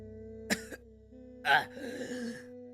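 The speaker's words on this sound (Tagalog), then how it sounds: "Bigla itong humugot ng hininga at umubo ng napakalakas." A sharp gasp for breath comes first, then a louder, rough cough or throat-clearing burst about a second later, close and alone over a faint musical hum.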